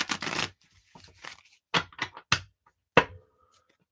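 A deck of cards is shuffled by hand in several quick bursts of riffling and rustling close to the microphone, with brief pauses between the bursts.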